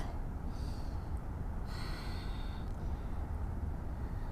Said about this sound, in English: you can do Ujjayi breathing and bring the attention to the sound of your breath.